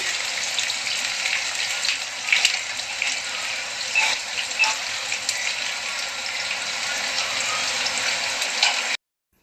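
Eggplant fry for a Rayalaseema-style dish sizzles in a pan, a continuous bright hiss with a few louder crackles as it is stirred, close and alone.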